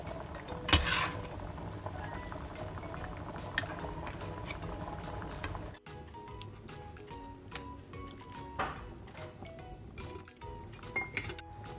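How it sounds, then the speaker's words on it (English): Tomatoes boil in a pot during home canning, a quiet, steady bubbling with occasional clinks of utensils and jars against the pot, and no talking. "Keep it boiling for about 10 minutes."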